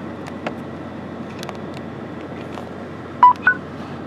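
A phone gives two quick electronic charging chimes close by after being plugged into a car's ignition power outlet, over a steady low engine hum with the ignition on.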